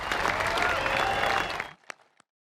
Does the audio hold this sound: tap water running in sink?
no